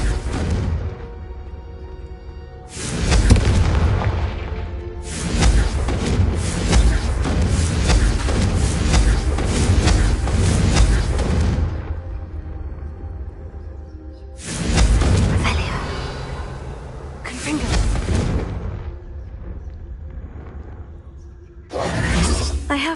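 Confringo fire-blast spell cast repeatedly in Hogwarts Legacy, loud bursts with shattering, booming impacts and whooshes in several bands separated by short quiet gaps, over a game music bed.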